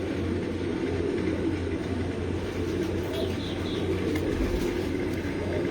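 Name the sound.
pigeons cooing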